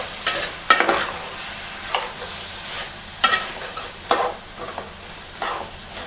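Chopped tomatoes being stirred and fried in oil in a pan with drumstick and potato, a spoon scraping in sharp, irregular strokes over a steady close sizzle.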